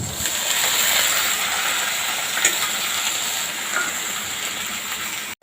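Washed vegetables hit a pan of browned onions and fry, a steady close sizzle and hiss that runs unbroken, with a few faint scrapes of stirring.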